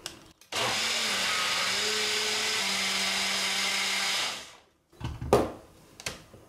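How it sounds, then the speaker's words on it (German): A kitchen blender purees soft cooked sweet potato and walnuts into a vegan spread, running as a loud, steady whir for about four seconds before cutting off, followed by a few clattering knocks. "So, jetzt pürieren wir es alles fein."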